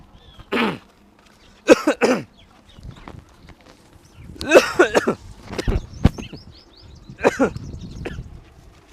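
Several harsh coughs come in scattered bursts, some in quick pairs, close and fairly loud, with quiet gaps and faint background noise between them.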